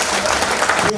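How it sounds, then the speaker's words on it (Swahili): Congregation applause fills a Full Gospel church in Kisii Town during a New Year overnight service: a dense, steady wash of clapping for about a second before it drops away. "Tuwapigie makofi."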